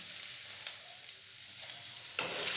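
Minced garlic and ginger hit hot oil in a pan, giving a steady close-up sizzle with a sharper, louder burst of crackling near the end.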